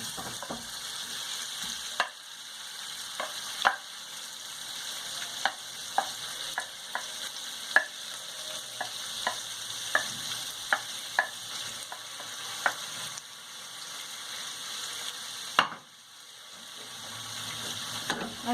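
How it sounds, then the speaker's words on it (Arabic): Shrimp sear in hot oil in a pan, a steady close sizzle running throughout with scattered clicks and stirring sounds from utensils. "في مقله سخونه غادي نوضعوا الزيت، وغادي نضيفوا القمرون نشحروه هو اول حاجه"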